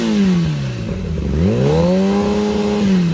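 A powerful 2019 Kawasaki motorcycle engine revs up close, its pitch rising, dipping, then sweeping back up in a loud, throaty roar, with no voices.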